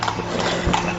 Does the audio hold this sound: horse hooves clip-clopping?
yes